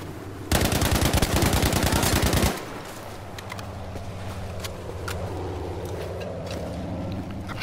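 An STG 44 assault rifle in Battlefield V fires a sustained full-auto burst of about two seconds, loud and rapid, then gives way to ambient battle noise and scattered distant shots.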